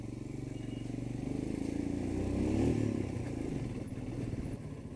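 A Royal Enfield Himalayan motorcycle being ridden through Kathmandu, Nepal, its steady engine thrum carrying close and loud, rising slightly in the middle with some road clatter, and no talk.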